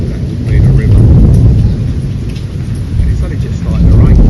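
Heavy rain during Storm Alice in Torrevieja, Spain, a loud continuous roar of downpour that swells and eases in waves, with no voices heard.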